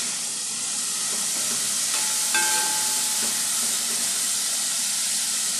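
Sausage and vegetables frying in a hot pan for a spicy Trinidad-style dish, a steady close sizzle and hiss with a few faint clinks of a utensil against the pan, no talking.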